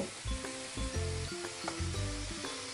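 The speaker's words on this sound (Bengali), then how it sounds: "খুন্তি দিয়ে ভালো করে নাড়তে থাকবো। এরপর সেদ্ধ করা মাংস দিয়ে দেব।" Boiled mutton goes into fried masala in a pan for mutton curry and is stirred with a spatula, giving a steady, moderate sizzle with stirring scrapes, accompanied by tonal music.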